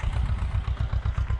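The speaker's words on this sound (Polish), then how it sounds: "Rusek to jest ciągnik stworzony po prostu do takiej roboty." A Rusek tractor raking hay in a field runs with a steady, pulsing low engine chug. The even rhythmic throb stays loud and close throughout.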